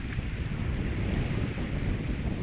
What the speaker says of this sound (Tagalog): papahina muna po tayo guys ng hangin